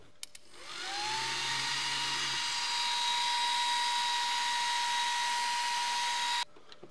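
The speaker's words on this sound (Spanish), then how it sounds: "Y ahora mirad cómo gira el motor." A small DC motor driven by a compressed-air turbine spins up after a click, settling into a steady high whine with a constant pitch that holds for several seconds before cutting off abruptly.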